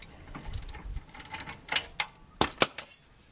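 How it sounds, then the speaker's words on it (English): A ratchet loosens the caliper mount bolts on a 2014 Impala during a brake pad and rotor job. Short, irregular mechanical clicks come close up, sparse at first and then sharper in a quick cluster of ticks. "now I'm taking the bolts off for this caliper mount"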